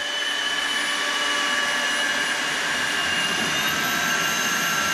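An Osotek H200 vacuum cleaner runs in auto mode with a loud, steady high-pitched whine and airy roar held close and even throughout, with no speech.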